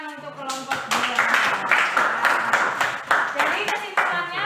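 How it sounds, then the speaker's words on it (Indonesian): Classroom clapping for a student group during a school lesson, a loose, uneven patter of hands from a small group, fairly close, with voices talking over it. "tepuk tangan untuk kelompok 2."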